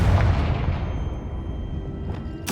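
A Confringo fire spell from Hogwarts Legacy bursts as a heavy, close boom that rumbles and decays over about two seconds, followed by a sharp second impact at the end.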